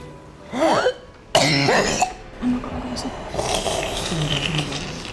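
A few harsh, close coughs in quick bursts, followed by throat clearing and quieter rough vocal sounds.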